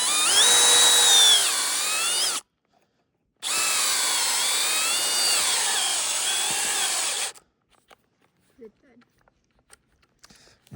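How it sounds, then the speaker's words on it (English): A cordless drill bores into a maple tree for tapping sap, whining loudly at high speed, cutting out briefly as the battery dies, then running again for several seconds before stopping, leaving a few faint clicks. "We're going to drill in and drill at an angle upwards so that the sap"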